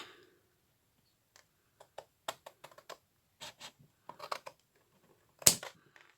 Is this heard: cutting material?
yes